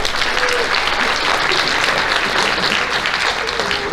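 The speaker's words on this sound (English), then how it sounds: "one more round of applause for the JV cross country team" A crowd at a high school athletic banquet gives the JV cross country team a loud, continuous round of applause, the clapping dense and even for several seconds.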